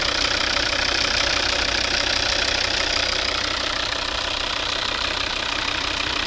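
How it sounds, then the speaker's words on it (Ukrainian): A steady diesel engine idle from a 2011 Volvo V60 2.0 D3 automatic, with a continuous low rumble and even knocking texture, unchanging throughout with no voices. "Класно працює двигун"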